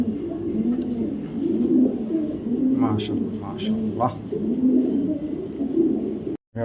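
Pigeons at a pigeon sale coo in repeated low, rolling calls close by, a steady rhythmic murmur throughout while someone talks over them, ending in a brief silence.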